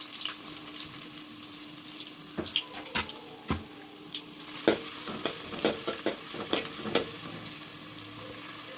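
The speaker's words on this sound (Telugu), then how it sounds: "అవి కొంచెం గోల్డెన్ కలర్ వచ్చేదాకా ఫ్రై చేసుకోవాలి." Onions and green chillies fry in a pan for chicken curry, a steady low sizzle with scattered sharp clicks and scrapes of stirring, fairly close and alone without talk.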